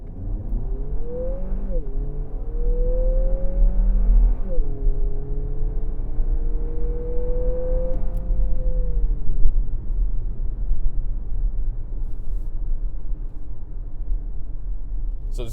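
2025 Lexus NX 350 F Sport in Sport Plus mode pulling away hard from a complete stop, the engine note climbing through rising gears with a clear shift near two and four seconds, then settling into a steady loud cruising drone.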